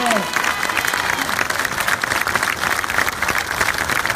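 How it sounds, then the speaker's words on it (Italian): A large crowd claps continuously at an outdoor political rally in Trieste, a dense steady patter of applause throughout with faint voices mixed in. "io chiederei un applauso per le forze dell'ordine"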